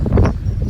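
Wind on a cold, wet day buffets the microphone in low, uneven thumps, strongest at the start and then settling into a duller rumble.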